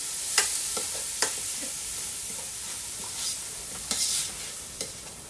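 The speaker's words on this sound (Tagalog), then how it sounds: "Hintayin lang po natin mag-golden brown ang ating chicken." Chicken pieces sizzle steadily in a hot pan for arroz caldo, seasoned with patis, with a spoon or spatula scraping and stirring in sharp bursts over the constant frying hiss.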